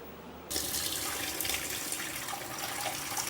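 Tap water runs steadily into a sink while squid is washed for a Kanyakumari-style squid gravy, a broad continuous splashing hiss that starts abruptly and holds loud and close to the end.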